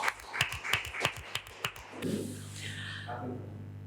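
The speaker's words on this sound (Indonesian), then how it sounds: "Tepuk tangan Bapak Joko Fitra." About eight sharp, evenly spaced claps ring out over two seconds, as an audience applauds at the close of an interview about retail business, and speech follows once the clapping stops.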